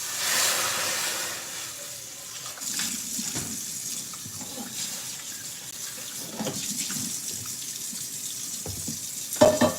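Tap water runs steadily into a sink as a pan is rinsed out after making cinnamon pancakes, a continuous splashing hiss with small clatters and a sharper knock at the very end.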